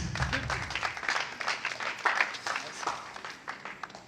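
An audience applauds a vice-president at a 2024-2025 school integration ceremony, moderate clapping that rises and falls over a low murmur of voices in a hall.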